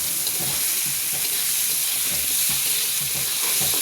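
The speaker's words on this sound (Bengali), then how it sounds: "এবার এইটার সময় দিয়ে আমি কষাবো, ভাজাও হবে কষানো হবে" Onion frying and being stirred with garlic paste in a hot pan, a steady close sizzle with repeated scraping stirs throughout, no voices.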